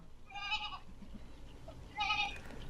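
A large herd of goats; two separate bleats ring out a moment apart over a quiet background, fairly close but soft, with no talk.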